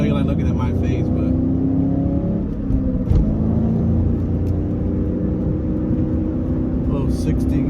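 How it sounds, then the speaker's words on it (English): A 2004 Mustang Cobra's engine pulls hard on the highway, a steady loud drone with road and wind noise throughout and a brief bump midway, heard from inside the car. "Couple highway pulls here so you can enjoy the video a little bit."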